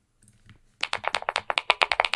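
Rapid burst of crisp, close keystrokes on a mechanical keyboard fitted with honey key switches, about a dozen sharp clacks in quick succession after a brief quiet start.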